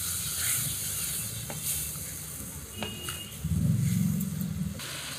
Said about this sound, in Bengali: নেড়ে চেড়ে মশলাটা এখন ভালো করে কষিয়ে নেব।